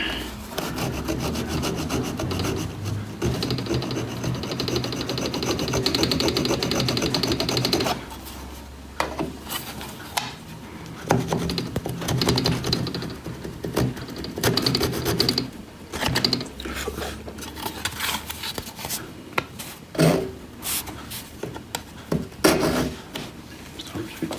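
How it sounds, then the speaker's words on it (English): Small hand saw cutting through the wood of a 1973 Martin D28 guitar neck during a neck reset repair, a steady rasping back-and-forth stroke, close and continuous, pausing after about eight seconds before resuming in shorter, uneven bursts. "Now we're going to cut this little piece out because it'll never go back in the guitar like that."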